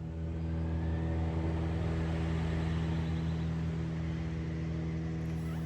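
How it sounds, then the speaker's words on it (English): A garbage truck passes outside, heard from inside a home as a steady, muffled low rumble and engine drone that holds through the stretch, with no talking. "the garbage truck is going by"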